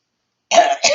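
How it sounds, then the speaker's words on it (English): A single harsh throat clear from an adult man with sinus trouble, close and fairly loud, a rough burst followed by a shorter second push, with nothing else audible. "Clear my throat."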